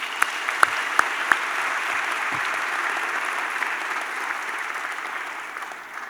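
A large audience at a medical school commencement ceremony applauds the valedictorian, a dense, steady wash of clapping with a few sharp individual claps early on, easing slightly at the close.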